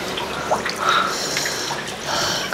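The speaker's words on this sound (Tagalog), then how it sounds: "Tingnan nyo yung pinagdadaloy ng tubig." Water pours steadily from a spring pipe rigged like a faucet on a mountain, a continuous close splashing gush with small bright spatters over it and faint voices in the background.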